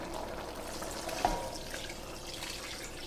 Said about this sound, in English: We're gonna add us a little broth, just enough to cover it.